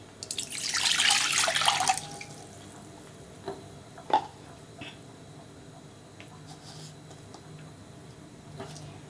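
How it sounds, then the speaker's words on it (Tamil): About two cups of water pour into a cooking pot in a kitchen with a loud splashing gush lasting under two seconds, followed by a few quiet drips and small knocks of the pot. "இப்போ ஒரு பாத்திரத்தில் நம்ம தண்ணி ஊற்றிக்கலாம்."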